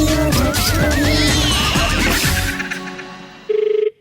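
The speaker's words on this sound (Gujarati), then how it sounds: "ફોન આવ્યો" A telephone rings once in a radio comedy sketch: a single short, steady electronic tone sounds just after loud music fades out.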